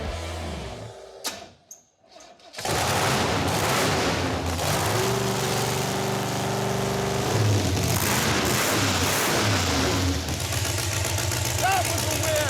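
After a few seconds of cranking, the engine of the Stubby Bob project car catches and fires up, then keeps running with a loud, steady, rough roar for the rest of the clip.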